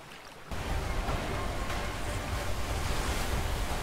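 Rushing waterfall water in the video game A Way Out, a steady loud broadband roar that surges in after a quieter half-second opening and holds unbroken.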